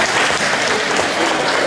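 Loud, dense applause from a live audience at a comedic crosstalk riddle performance in Changchun, a steady roar of clapping that fills the whole moment.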